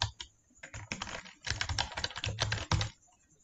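Quick keystrokes on a computer keyboard as an email address is entered into a payment form, a close, crisp clatter in short irregular bursts with brief pauses between.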